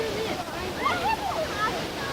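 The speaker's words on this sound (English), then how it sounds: "we're going to go down and watch the water cutting into the rock" A creek rushes over hard sandstone caprock, a steady wash of flowing water with faint chirps and a voice-like warble riding on top.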